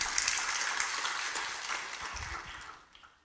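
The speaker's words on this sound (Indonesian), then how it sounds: "Kita beri tepuk tangan untuk kebenaran ini." A church congregation gives steady, moderately distant applause, a dense wash of many hands clapping that holds evenly for a few seconds and then tapers off.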